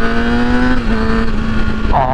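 Engine of a 2009 Kawasaki ZX-6R sport motorcycle while riding, holding a steady tone and then shifting pitch midway, with a short higher rev near the end.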